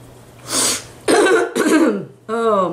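A person coughs and hacks several times in quick succession, close to the microphone, with a throaty clearing sound and rough voiced bursts separated by short pauses.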